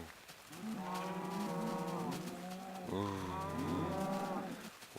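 Cows mooing in the video game Minecraft: two long, drawn-out lowing calls in succession, clear and fairly close, with no talking.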